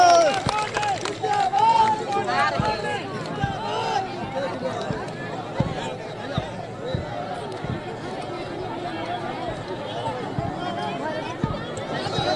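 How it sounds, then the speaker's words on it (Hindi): An Uttar Pradesh election rally crowd claps and cheers to welcome Priyanka Gandhi, producing a dense, sustained wash of clapping and crowd noise with scattered sharp claps throughout, and voices mixed in. "मैं चाहूंगा जोरदार तालियों से आदरणीय प्रियंका जी का स्वागत करें।"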